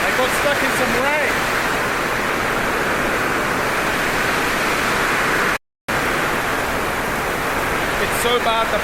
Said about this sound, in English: I got stuck in some rain.